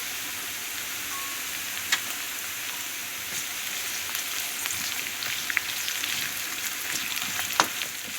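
Chopped onions and peppers sauté in a frying pan, giving a steady, close sizzle throughout with a few faint clicks, and no talking.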